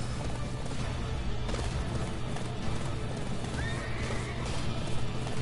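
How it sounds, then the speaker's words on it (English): A horse neighs in the Attack on Titan video game, with galloping clip-clop and dense game noise running steadily throughout. "I don't know why it gives you a horse on this level."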